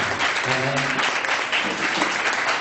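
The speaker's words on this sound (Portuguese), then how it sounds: "aplauda Jesus com alegria, irmãos" Church congregation applauding together, a dense wash of clapping that holds steady for a few seconds with a voice speaking faintly underneath.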